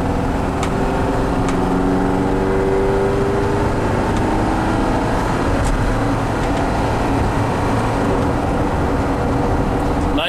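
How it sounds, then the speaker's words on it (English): A 1974 Volkswagen Westfalia camper with automatic transmission drives along, its engine droning steadily and loud from inside the cabin, the pitch easing as the gearbox shifts, with faint clicks now and then. "Smooth shifting, the automatic transmission is working very well."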